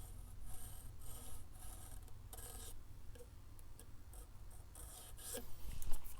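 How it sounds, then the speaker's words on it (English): Hand file rasping during a guitar setup on a Jay Turser JT220D, light repeated strokes in an uneven rhythm, close but faint, over a low steady background. "Letting the file do the work, not pushing at all."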